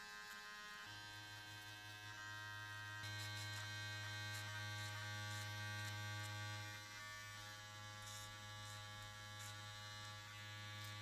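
Electric hair trimmer buzzing steadily and close while cutting afro hair during a mid fade, its tip working along the sides of the hairline, with a constant motor hum that strengthens midway.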